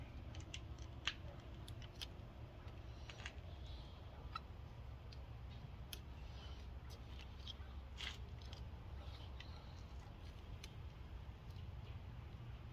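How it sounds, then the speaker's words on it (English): A plastic tie is cut off with teeth while Barkbuster hand guards are fitted to a motorcycle: faint, scattered clicks and snips over a steady background hum, close but quiet. "Cut it with my teeth."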